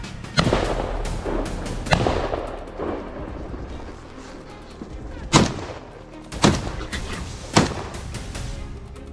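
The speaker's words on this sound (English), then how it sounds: "A volley of gunfire tore through the silence loud, relentless and final." Several loud, sharp blasts ring out at irregular intervals, each booming and echoing into a rumbling background like gunfire.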